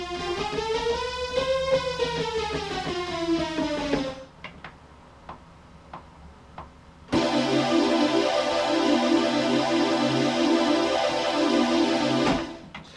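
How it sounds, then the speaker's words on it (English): A bright, buzzy sawtooth synth with rich harmonics plays a gliding note, then a pause with soft clicks, then a sustained harsh chord. "this is a very sort of sharp, kind of heavy on the sawtooth sounding synth sound"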